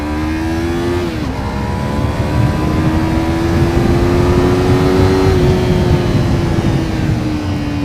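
A Yamaha MT-03 motorcycle engine accelerates hard in second gear, a loud close rising growl with a brief dip near one second before the pitch climbs steadily again, with no talk.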